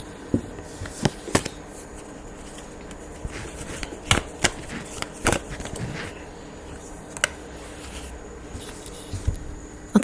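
Tarot cards being shuffled by hand, soft papery riffles and scattered sharp taps and flicks spread across a quiet background.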